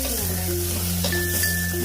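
Chicken curry sizzles and fries steadily in a pan while it is stirred, giving a dense, continuous close-up hiss with faint scraping and a steady hum underneath.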